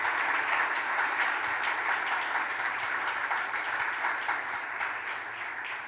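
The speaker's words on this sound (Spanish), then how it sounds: "por favor, un buen aplauso al Señor en esta mañana" A church congregation applauds during a Sunday morning service, a dense, steady wash of many hands clapping together that slowly fades toward the end.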